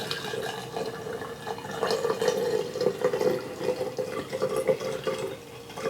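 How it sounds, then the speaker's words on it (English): Mango habanero moonshine pours into glass jars in a steady, continuous liquid trickle that swells and eases slightly, close and moderately loud, with no talking. "I'll start filling these jars up"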